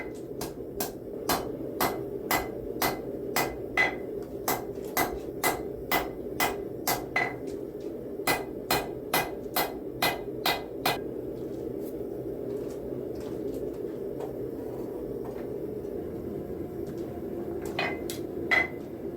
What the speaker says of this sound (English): I pull it out of the forge again and start forging.